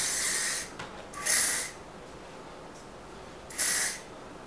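Oribe hair spray sprays in three short hissing bursts, close and fairly loud, separated by brief quiet pauses.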